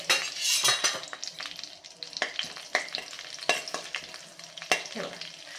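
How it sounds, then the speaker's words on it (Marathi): Cumin seeds crackle and sizzle in hot melted butter and oil for street-style pav bhaji, with a steady close frying hiss broken by sharp spoon-and-pan scrapes and clinks as the spices are stirred. "यामध्ये मी घालतीये एक चमचाभर जिरे जिरे मस्त आपल्याला फुलवून घ्यायचे आहेत"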